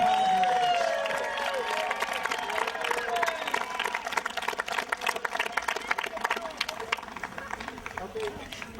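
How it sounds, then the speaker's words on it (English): A crowd at the 2010 Scripps Ranch Little League season closeout applauds and cheers the A's and Padres baseball teams, a steady wash of clapping and voices running the whole stretch. "Let's give a big round of applause for the A's and the Padres."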